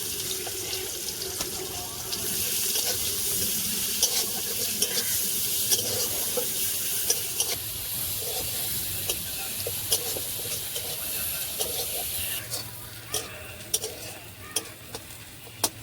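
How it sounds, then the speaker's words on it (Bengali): Chopped onion drops into hot mustard oil in a kitchen wok and hisses in a steady, loud sizzle with scraping stirs, continuing for many seconds without any voice. "তেল গরম হয়ে গেছে, দিয়ে দেব কেটে রাখা পেঁয়াজ"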